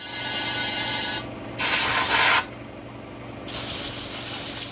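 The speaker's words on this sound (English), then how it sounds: "let me get the compressor on, see if we can get this blowed out and running" Compressed air from a shop compressor blasts through a Joncutter 5800 chainsaw running on methanol, with two loud bursts over a steady mechanical hum, heard close up without speech.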